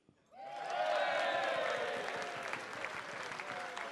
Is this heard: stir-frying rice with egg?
no